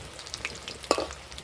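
Mushroom balls frying gently in oil in a wok, a quiet steady sizzle with scattered small pops and one sharper crackle near the middle, close and alone.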